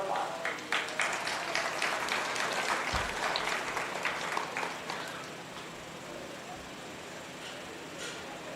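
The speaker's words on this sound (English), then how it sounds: "Let's give Barry a round of applause" A crowd at a 4-H beef show at a county fair claps for the judge, a lively round of applause that fades after about five seconds into quieter outdoor background with voices.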